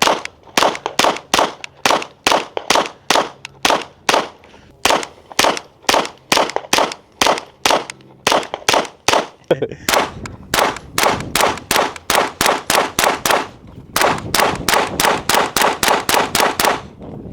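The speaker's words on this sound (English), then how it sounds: "we're gonna shoot 40 rounds of the mini mag" A SIG Sauer P322 .22 pistol firing CCI Mini Mag rounds outdoors, dozens of sharp loud shots in quick rhythmic strings with brief pauses between bursts.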